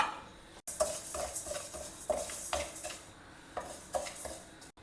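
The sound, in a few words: dry roasting moong dal in a pan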